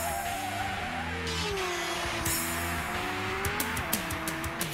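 A cartoon race car drifts with a long, steady tire squeal and engine drone, closing on a burst of short skids and screeches near the end.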